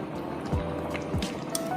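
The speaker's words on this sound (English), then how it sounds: "As you can see now, it's bubbling nicely," Mexican turkey rice simmering in a single pot, giving a steady wet bubbling with soft liquid pops and squelches close by, continuous and fairly loud with no talk over it.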